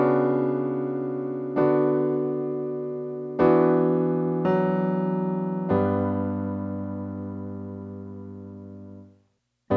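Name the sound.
piano playing a chord progression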